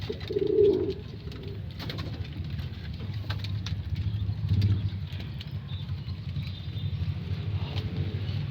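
Racing pigeons, a Taiwan-cross foundation bird and young birds in a loft, coo in low repeated rolling calls close by, with a few louder bursts over steady background noise.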